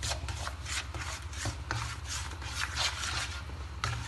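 Gram flour being stirred and roasted in a pan with ghee for besan barfi, a continuous soft scraping and rubbing of the spoon against the pan, fairly quiet and repetitive, with a low hum underneath; no talking.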